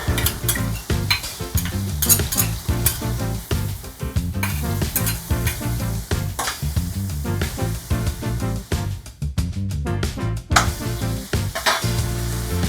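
Garlic fries loudly in a hot pan for a king prawn, courgette and penne dish, a dense close sizzle with metal utensil clinks and stirring scrapes throughout.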